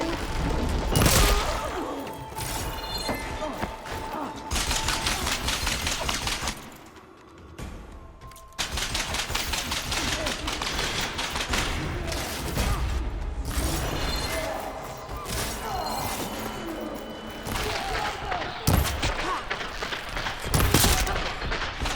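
Dense, continuous gunfire rattles through a chaotic firefight in Horizon Forbidden West's Burning Shores, with rapid bursts and impacts layered loudly and almost without pause, briefly dipping before the barrage resumes.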